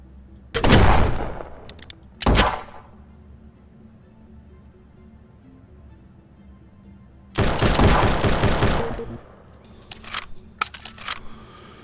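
Enemy gunfire from the video game Hype Prototype: two short loud bursts near the start, then a longer sustained volley of rapid shots, with scattered faint pops trailing off toward the end.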